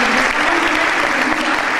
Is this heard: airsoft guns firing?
no